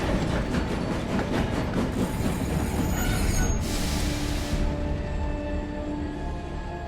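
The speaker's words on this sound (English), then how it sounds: "Thomas puffed wearily to the smelting zone." A rumbling train rolls along steadily, with rhythmic clatter and a high metallic wheel squeal partway through, loud and continuous without any talk.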